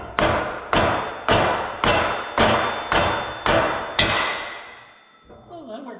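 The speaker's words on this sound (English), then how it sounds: "We'll try pounding one in dry." Seven sharp hammer blows pound a piece in dry at a steady rhythm, each loud close strike ringing briefly before the next, followed by quieter handling noise.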